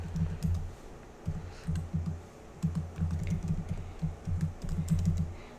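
Computer keyboard keys clatter in quick bursts as an SQL query is typed, clusters of close, crisp clicks separated by short pauses, with no talking.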